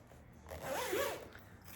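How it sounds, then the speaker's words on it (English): A zipper drawn along a small fully lined fabric project bag, one quick rasping pull heard up close over quiet surroundings. "Cute little zipper pull, fully lined,"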